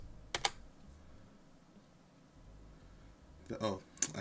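Quick bursts of typing on a computer keyboard while entering cloud command-line instructions, two short clusters of clicky keystrokes at start and end with someone talking throughout.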